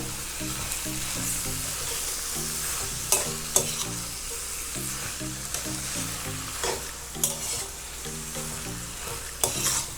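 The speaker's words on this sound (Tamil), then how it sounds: "ஸோ இது நல்லா கிளறி விடுங்க." Coimbatore-style chicken chinthamani sizzles in a wide pan as it is stirred, a steady close frying hiss broken by occasional sharp scrapes of the spoon, while a soft tonal background runs underneath and no one speaks.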